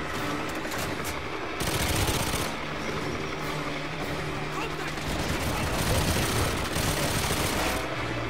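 Constant rapid gunfire in a firefight level of GoldenEye 007 Reloaded on PS3, with dense bursts of automatic fire and shots overlapping, loud and continuous across the whole stretch.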